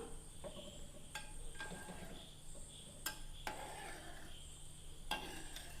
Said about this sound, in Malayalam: പതുക്കെ ഒന്ന് നമുക്കൊന്ന് അനക്കി കൊടുക്കാം.